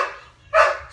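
A pet dog named Zoe gives one short, fairly loud bark indoors, close by, right after a stretch of quiet.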